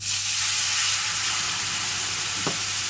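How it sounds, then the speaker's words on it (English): A hot pan sizzles loudly and steadily as liquid hits it for deglazing, a continuous frying hiss with a brief scrape or clink near the end. "And then we're going to deglaze the pan."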